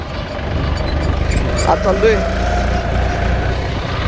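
A tractor engine runs steadily in the background on a farm, a low continuous rumble beneath someone speaking briefly.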